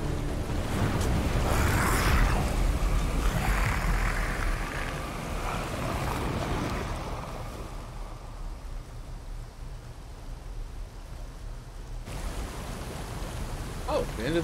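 A waterfall in the video game Bramble The Mountain King rushes as a loud, continuous roaring wash that thins out partway through, with no talking over it.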